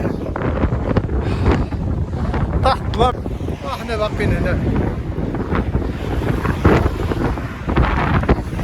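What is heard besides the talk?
wind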